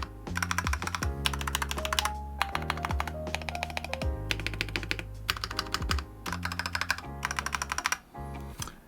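Rapid clacky keystrokes on a hot-swappable Shurikey Hanzo mechanical keyboard in bursts, with short pauses between flurries; close and crisp, no talking.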